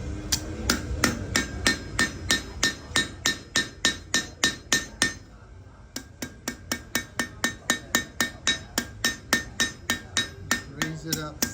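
A blacksmith hammers hot metal to draw a taper on the tip, a fast steady run of loud ringing blows with a brief pause midway before the rhythm resumes, heard at a tractor show.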